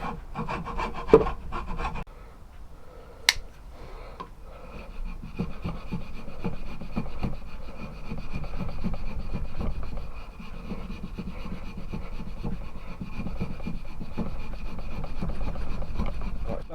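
Repeated scraping and rasping of a knife shaving wood, steady strokes close by, with a sharp click near the start.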